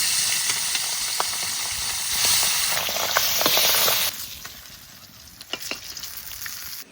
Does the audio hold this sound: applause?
no